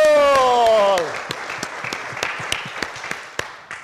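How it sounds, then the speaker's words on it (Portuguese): An audience on a studio talk program claps for a departing guest, the applause rising just after a sustained tone fades and continuing as a loose, moderately loud patter of individual claps. "Recebendo os aplausos!"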